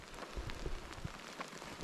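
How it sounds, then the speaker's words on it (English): Hail falling steadily in open country in Alberta, stones nearly dime-sized, a dense continuous patter of many close impacts with no talking. "Wow, look at that hail, guys. It's not quite dime size, but it's pretty big."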